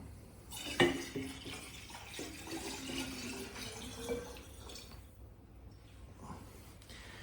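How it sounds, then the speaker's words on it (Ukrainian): Water pours steadily into alcohol in a container with a splashing trickle, starting with a brief clink and fading to quiet near the end. "Тож додаємо спирту воду."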